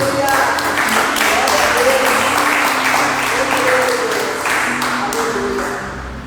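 A church congregation claps together in praise during an evening worship service, a loud, dense wash of applause with voices mixed in, holding steady for several seconds before easing slightly at the end.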